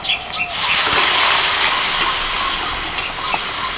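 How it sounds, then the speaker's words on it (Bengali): Boiled mutton tipped into a hot spice mixture in the pan bursts into a loud, close, hissing sizzle that holds steady throughout. "মটনটা সিদ্ধ করে রেখেছিল এবার দিয়ে দিচ্ছি মশলার মধ্যে"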